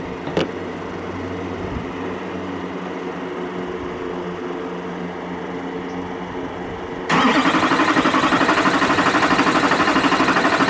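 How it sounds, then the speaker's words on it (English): An LBZ Duramax diesel engine, jumped to crank and build oil pressure during a turbo upgrade, turns over steadily and close. It runs as a continuous mechanical drone that grows louder and rougher partway through. "So we're just gonna jump it so that way it fucking starts cranking over and building oil pressure."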